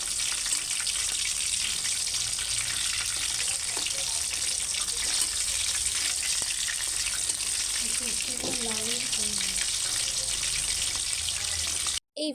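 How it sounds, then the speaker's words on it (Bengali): Chicken pieces fry slowly in oil over a low flame, giving a steady, continuous sizzle that stays even throughout, with brief faint sounds of handling in the background and no speech. "এখানে কিন্তু লো ফ্লেম রেখে এইটা কিন্তু আস্তে আস্তে করে ভাজতে হবে"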